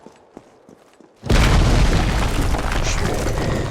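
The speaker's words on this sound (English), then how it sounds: "I'm pretty sure I can take him out with a grenade." A grenade explosion in the video game Resident Evil 3, a sudden loud deep boom that follows faint scattered sounds and then rumbles on with a sustained roar.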